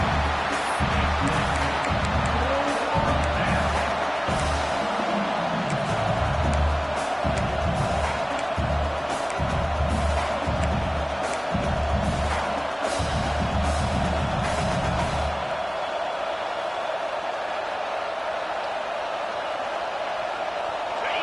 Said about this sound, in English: Crowd getting cranked up, trying to help this defense on the final drive.